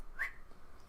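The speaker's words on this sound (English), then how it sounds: "sorry for the whistle. That's my dog." A sleeping dog having a nightmare gives a single high, thin whistling whine, brief and fairly close, followed by a faint sharp sound at the end.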